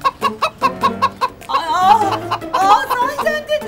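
A series of rhythmic clucks, then longer warbling cackles; it sounds like a human voice imitating a hen.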